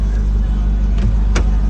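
A car engine idles close by with a steady low rumble, and brief faint noises sound over it once or twice.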